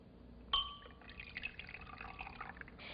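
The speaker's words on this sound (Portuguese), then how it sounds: "quando nós misturamos a terra à água" Water poured and mixed with soil in a glass, a sharp clink of glass followed by soft trickling and swirling liquid sounds, close and quiet.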